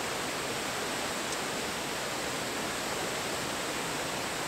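A coastal clifftop waterfall rushes in a dense, steady roar of falling water, loud and unbroken for the whole stretch with no voices.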